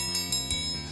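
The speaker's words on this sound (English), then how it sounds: "This triangle is really cool because it makes a really pretty ding sound" A metal triangle is struck, producing three quick bright dings that ring over a sustained, faint shimmering tone.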